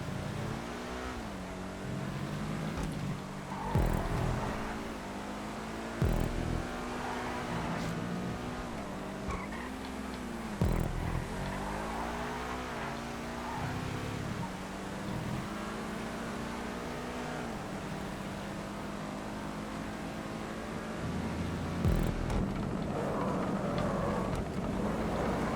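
A sports car in GTA 5 races with its engine droning and revving, pitch rising and dipping through repeated gear shifts, with occasional bumps and skids under a steady loud roar.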